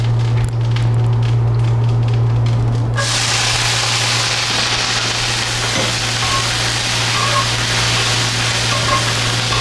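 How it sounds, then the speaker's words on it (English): Leeks sautéing in olive oil, a steady, loud sizzle that jumps up after about three seconds and then holds as a dense, continuous frying hiss, with a low hum running underneath throughout. "Saute some leeks."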